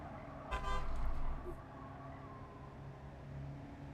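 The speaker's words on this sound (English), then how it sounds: "Got a toot outside." A car horn toots once outside, a short muffled honk, followed by a passing car's low engine rumble under a quiet background.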